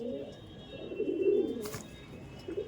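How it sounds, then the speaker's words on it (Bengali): A black-eyed Chotial pigeon, a female among others, gives a low rolling coo that swells in the middle, heard close with faint background noise. "মাদি পায়রাটা দেখুন"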